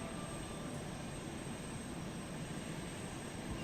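Idling thruster engine of a craft in Space Engineers, a constant, even roar with a broad hiss and low rumble that holds steady and close throughout, with no talking.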